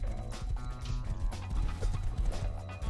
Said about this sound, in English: Horse behind me.